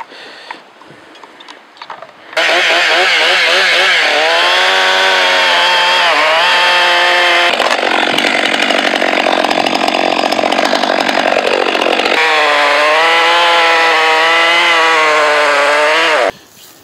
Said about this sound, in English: Chainsaws run better with gas.